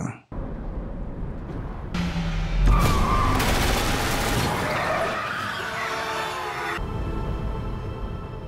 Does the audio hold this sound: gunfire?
yes